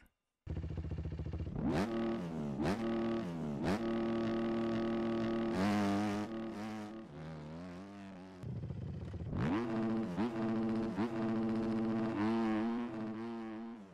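A YZ250 dirt bike engine sound mod in the MX Bikes video game, idling then revving up hard through several sharp throttle blips, with a steady buzzing drone between rises and a short drop back down near the end.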